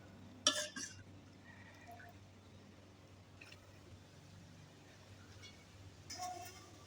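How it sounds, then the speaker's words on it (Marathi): Soaked moong dal being scooped out of water into a mixer jar: a couple of wet splashy clatters with drips, the first sharp and near, then quiet handling before another wet scoop. "आता ही मुगाची डाळ मी पाण्यातून काढून एका मिक्सरच्या भांड्यामध्ये ट्रान्सफर करते"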